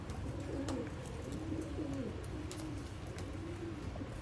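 Sialkoti pigeons with head markings, kept as breeding birds, give soft repeated throaty coos that rise and fall over a constant low hum, with faint clicks and shuffles close by.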